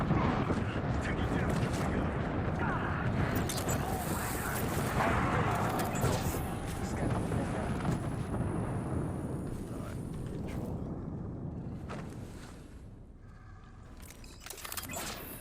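In an Apex Legends match, an ultimate airstrike sets off a dense, rumbling run of explosions that booms continuously for several seconds before thinning out. A player talks over the blasts.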